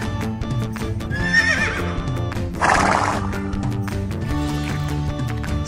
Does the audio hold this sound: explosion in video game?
no